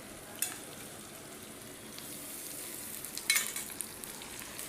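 Ginger paste and spices hit hot oil with onion and tomato in a pan for a Bengali chicken curry, giving a faint steady sizzle with a few sharper crackles and bursts.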